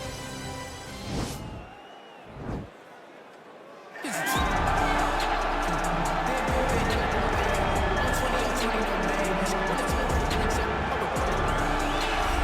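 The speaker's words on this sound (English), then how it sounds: "you hear the pop from the crowd, DC, as Nate Diaz gets set to make this walk here tonight" Arena crowd at UFC 279 erupts into a loud, sustained roar as Nate Diaz begins his walkout, following a few seconds of quieter murmur and thuds before the swell of cheering takes over.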